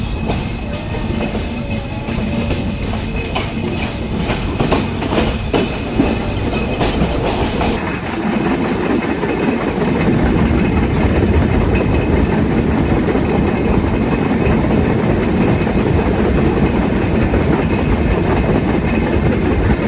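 The Rupsha Express runs along the rails on the Chilahati to Khulna line, a loud, continuous rumble with rhythmic clickety-clack from the wheels and wagons, heard close and steady throughout.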